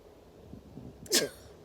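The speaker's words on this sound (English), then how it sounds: "oh, I'm going to sneeze." A single sharp sneeze bursts out near the microphone after a moment of quiet breathing and rustle.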